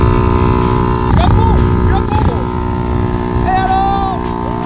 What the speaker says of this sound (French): Bon là on est vraiment sur une minuscule moto les gars